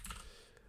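Keystrokes on a computer keyboard while text is entered in a web-based tabletop map tool, a short cluster of quick soft clicks with no voice.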